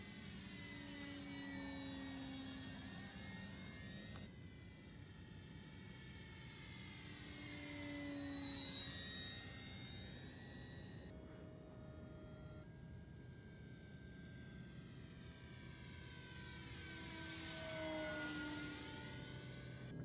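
A radio-controlled Big Bobber model airplane flies repeated passes overhead, its motor whine rising and falling in pitch as it sweeps near and then away, steady and moderately loud with no talking.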